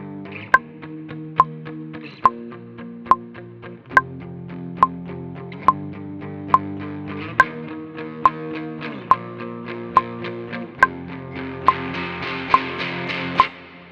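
Electric guitar played through the Amplitube Texas 1 preset, clean chorused chords changing every few seconds, with a steady sharp click ticking on each beat throughout.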